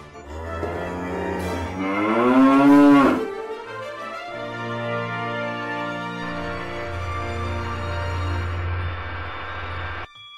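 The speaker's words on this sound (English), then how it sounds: "It sounds like a cow." A cow lets out a long, loud moo that rises then holds as a lower drawn-out call, close by, with no talk.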